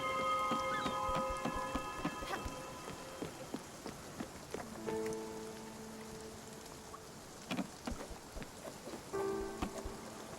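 Steady rain patters down continuously in the video game Spiritfarer, with scattered drops and faint tonal game sounds chiming in now and then, no talking.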